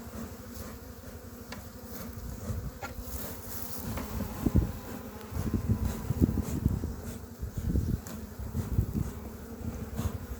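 Dense buzzing of many bees swarming close by around an opened hive during inspection, rising and falling in loudness with soft knocks and handling noises mixed in.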